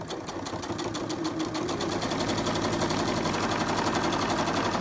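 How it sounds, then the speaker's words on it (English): A sewing machine runs a continuous straight stitch through fabric, a steady fast mechanical chatter close to the microphone for the whole stretch, with no talking. "we're just going to stitch these into place using straight stitch"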